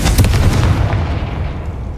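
A spell-blast explosion from the Hogwarts Legacy game: a loud, booming burst at the start that rolls off into a decaying rumble, heard alone with no talking.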